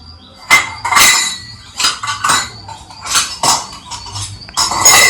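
Dishes and kitchen utensils being handled and stacked, giving a run of irregular, close, sharp metallic clinks and clanks with short pauses between them.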